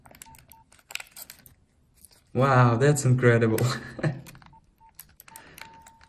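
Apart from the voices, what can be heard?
dropped iPhone making beeping sounds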